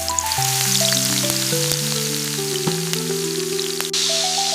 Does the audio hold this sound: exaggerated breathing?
no